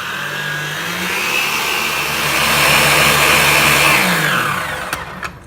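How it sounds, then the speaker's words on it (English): An electric mixer whirs loud and steady, beating egg whites toward soft peaks for a pavlova, the motor pitch rising and holding before it winds down at the end. "So now we just got to beat the eggs until soft peaks form."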